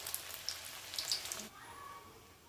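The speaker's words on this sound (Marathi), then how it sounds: "मी पूर्ण एक एक करत पुऱ्या तळत आहे" Jowar puris fry in hot oil with a bright, crackling sizzle that is loudest early on and then settles into a softer, steady hiss, close by with no talking.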